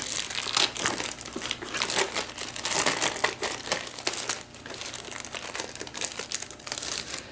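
Packaging of an Amazon Fire TV Game Edition being torn and opened by hand, loud close crinkling and crumpling of plastic and paper in continuous bursts, with no talking.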